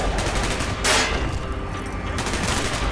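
Gunfire in Call of Duty: Black Ops, a dense crackling fusillade of rapid shots and bursts, loud and close, with a sharp blast near the start.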